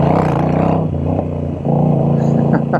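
A Moto Guzzi V7 motorcycle engine runs while riding, a steady loud throb that dips briefly mid-clip and then picks back up, with a faint voice over the drone.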